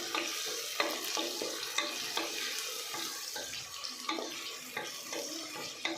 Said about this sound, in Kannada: onion full soft brown colour ಆಗೋವರೆಗೂ ಚೆನ್ನಾಗಿ ಫ್ರೈ ಮಾಡ್ಕೋಬೇಕು